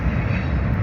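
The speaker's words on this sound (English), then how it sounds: "that train over there because it's very loud here" A loud train passing nearby gives off a dense, steady low rumble with a rough grinding texture that stays close throughout.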